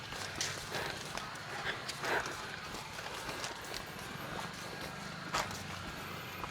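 Horse hooves clip-clop steadily on a hard road in Samar, Philippines, amid outdoor ambience and faint background voices.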